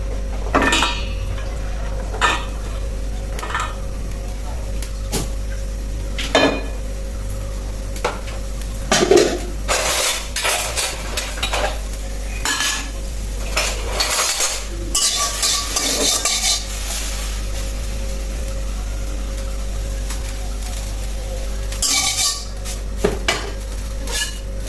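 A metal utensil scrapes and taps against a frying pan on a lit stove as ground paste is scooped out, with repeated clinks and clatters over a steady low hum, close and fairly loud, no talking.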